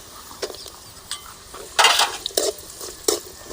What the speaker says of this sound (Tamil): பூண்டு நல்லா சிவந்து கிடிச்சி பொரிஞ்சு போச்சு, எண்ணெயிலேயே பொரிஞ்சு போச்சு